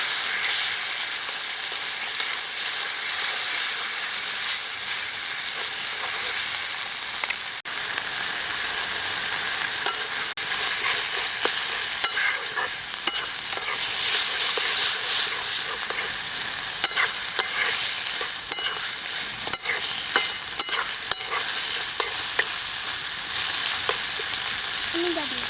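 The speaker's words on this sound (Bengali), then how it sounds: "একবার নেড়ে নিই।" Spices and ground cumin frying in a pan for a Bengali yogurt fish curry, stirred with a utensil: a dense, steady sizzle runs throughout, with frequent light scrapes and taps of the spoon against the pan, close and loud, no voices.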